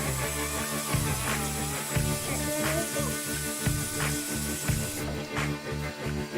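An OmniShaver electric shaver runs while rinsed under water, a buzzing motor hum with splashing and spray bursts in an irregular rhythm, fairly quiet and close, with the water sound dropping near the end.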